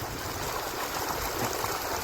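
Irrigation water runs along a field channel in a soft, steady trickling rush, faint and continuous, with no voices over it.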